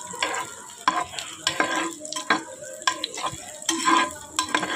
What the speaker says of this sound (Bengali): কাজু বাদাম, কাঠবাদাম আর কিশমিশ ঘি দিয়ে ভেজে নেব।